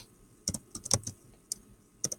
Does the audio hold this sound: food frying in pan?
no